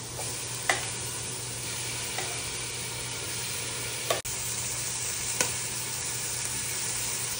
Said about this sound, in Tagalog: it's easier to brown the chicken legs